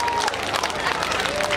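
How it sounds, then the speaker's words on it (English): Crowd at an air festival clapping in a dense, steady burst of applause, loud and close, with talking mixed in. "let's give them a big round of applause then, ladies and gentlemen"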